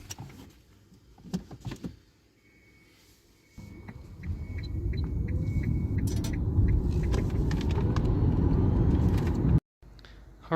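Nissan LEAF electric car with a repaired battery driving off, a steady low rolling rumble of tires and road noise building and holding, with faint whine and a few clicks inside the cabin.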